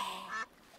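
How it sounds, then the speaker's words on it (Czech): Cartoon duck gives a single short, nasal quack, close and fairly faint, cutting off abruptly into quiet. "Kachna!"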